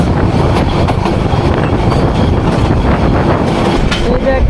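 The Parjatak Express, hauled by 20-series locomotive 3023, rolls loudly on the Cox's Bazar line, a dense, constant rumble with faint clickety-clack of wheels, heard close from on board.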